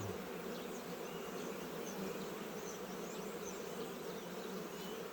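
Honeybees swarm over an opened hive during a spring inspection after a cold spell, a dense, unbroken close-up buzzing drone that fills the whole stretch with no talking.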